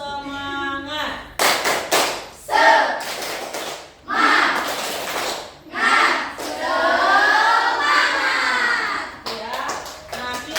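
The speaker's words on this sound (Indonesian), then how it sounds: "Ya, 1, 2, 3, tepuk semangat." A classroom of students performs a rhythmic spirit clap, with bursts of loud, patterned clapping broken by short pauses and children's voices joining in.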